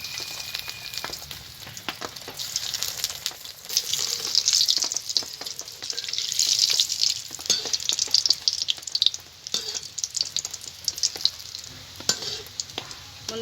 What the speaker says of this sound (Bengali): তেলটা গরম হয়ে গেছে, এবার ফিঙ্গারগুলোকে ভেজে নেব।